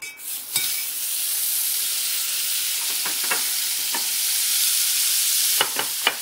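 Chopped onions fry in butter in a pan, giving a steady bright sizzle and hiss with a few sharp clicks of stirring against the pan; no one speaks.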